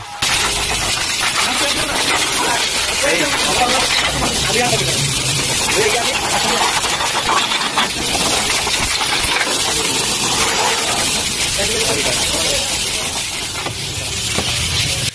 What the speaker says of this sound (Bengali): এই যে এখন আমরা হাওয়া মারতেছি।